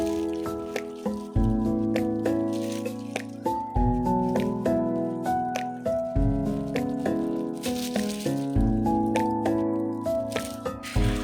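Crushed red chili and the juice of two lemons are stirred into a spice marinade for chicken steam roast, giving steady wet squishing and dripping sounds with a repeating stirring rhythm.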